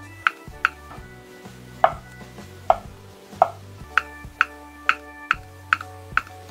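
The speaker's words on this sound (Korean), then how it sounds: "이쪽으로 이제 또 잘게 썰어줍니다." A knife finely chops food on a cutting board, giving sharp, close, evenly spaced knocks at roughly two per second, with faint steady background music underneath.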